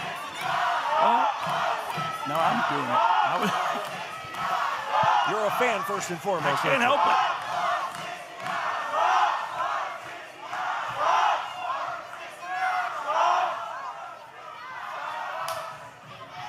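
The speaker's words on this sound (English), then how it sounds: "Listen to this crowd" Crowd at a live falls-count-anywhere wrestling event cheering and chanting in waves, a dense roar throughout, while people talk close by over the noise.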